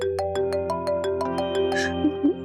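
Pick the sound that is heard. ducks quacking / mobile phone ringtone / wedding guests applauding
mobile phone ringtone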